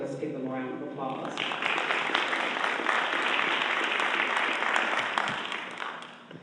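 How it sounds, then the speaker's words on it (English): A meeting audience breaks into a sustained round of applause, with dense clapping that builds after a brief opening of talk, holds steady, then tapers off near the end. "Let's give them a round of applause."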